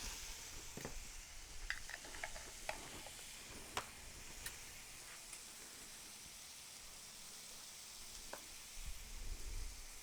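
Steak and vegetables with garlic sizzle steadily on a hot griddle, a continuous close frying hiss with occasional sharp ticks and spatters, no talking.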